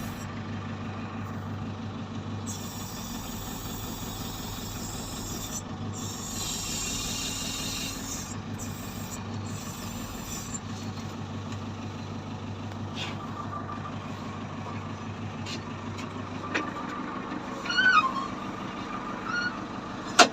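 A 2006 JCB backhoe loader idles and works its bucket, a steady diesel engine drone with hydraulic hiss and a few clanks near the end, close and continuous with no talking.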